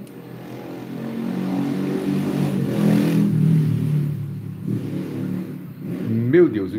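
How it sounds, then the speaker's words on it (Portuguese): Motorcycles pass along a street outside an open window, engine drone swelling and fading as they go by at medium distance, with someone talking over the traffic. "o que mais tem nessa rua é moto"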